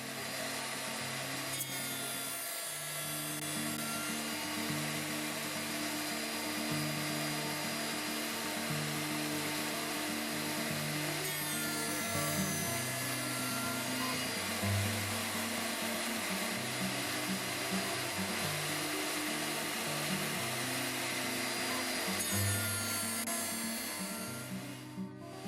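A hand-pushed jig cuts slots into the corners of a wooden box, giving a steady, loud power-tool whine with rhythmic changes in pitch as the wood is fed through, over about twenty-five seconds with no talk.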